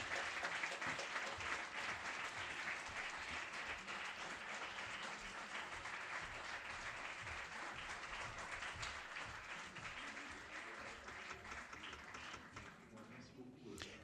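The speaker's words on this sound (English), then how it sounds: "the intensity of the applause is even higher at the end than at the start of your intervention." An audience at a European legal conference on trial procedures applauds after a speech, a dense, steady wash of clapping that holds for many seconds before tapering slightly at the end.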